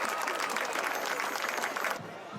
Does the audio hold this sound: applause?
yes